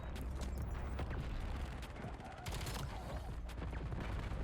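Rapid automatic fire from an M8A1 rifle in Black Ops 7, dense bursts of loud shots running almost continuously with a brief lull midway, over a busy game mix.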